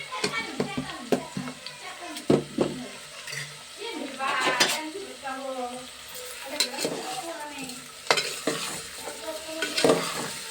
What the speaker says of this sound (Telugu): ఇవ్వండి అంతలో ఉల్లిపాయ ముక్కలు మగ్గుతున్నాయి కదండి